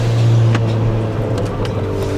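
A car engine revs steadily as it boosts past a meet of Volkswagens, a loud low drone from inside the car with faint clicks and no voices.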